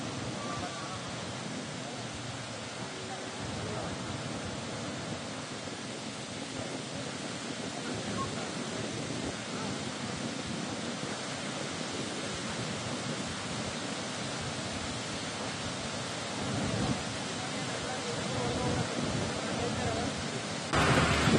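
The Narihalla stream runs full and overflowing after heavy rain in the Sandur forest area of Ballari district, a steady broadband rush of water that stays loud and unbroken throughout.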